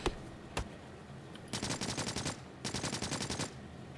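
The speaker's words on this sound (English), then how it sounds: "Tree cutting with a minigun is way more fun." A minigun cutting trees in Factorio with the Pyanodon mod fires in two rapid, evenly pulsed bursts after a couple of isolated shots. The bursts are crisp and mid-level in loudness, with no talking.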